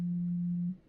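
Phone ringing tone heard during a League of Legends game session, one steady low electronic tone held for under a second before fading, alone without talk.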